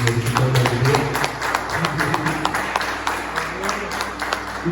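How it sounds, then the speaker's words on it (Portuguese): A church congregation at a Sunday morning service applauds in a busy wash of clapping, mixed with crowd noise and low background sound, steady throughout at moderate loudness. "Você pode aplaudir ao Senhor."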